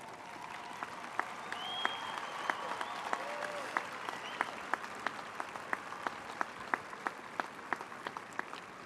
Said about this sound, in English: I'd like to invite these impressive young scholars to stand for a well-deserved round of applause